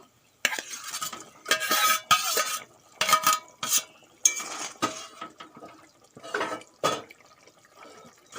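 Fried okra tipped into bubbling gravy and stirred, bursts of wet spoon-and-pot scraping and clatter with brief quiet pauses between strokes, close by.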